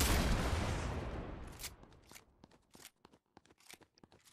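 Explosions being tested in a homemade capture-the-flag video game: a loud, sustained crunching blast that fades, followed by a string of sharp, scattered bursts and cracks.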